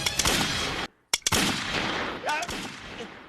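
Gunfire erupts in a scene from the Hindi film Dil Hai Hindustani: several sharp, loud shots in quick succession with a short silent gap, and speech overlapping the shooting.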